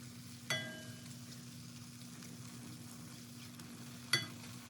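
Ground beef browning in a pot for spaghetti sauce gives a faint, steady sizzle, with two sharp clinks of a utensil against the pot.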